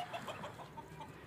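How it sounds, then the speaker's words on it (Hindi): Chickens and roosters cluck softly in a rural outdoor yard around sunset, a faint steady murmur of short calls with no talking over them. "चलते हैं, वो आपको मुर्गे दिखाते हैं।"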